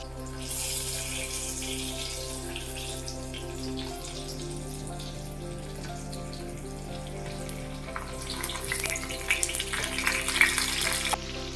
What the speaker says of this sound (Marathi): थोडस आपण वांगी परतून घेऊया